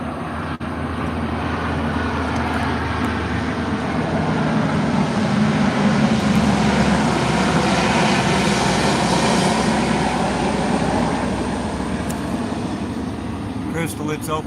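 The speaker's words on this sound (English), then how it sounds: "I got a C-130 about to blow over top of us." A low-flying C-130 military transport aircraft passes overhead, a loud sustained roar that swells toward the middle of the pass and stays heavy to the end.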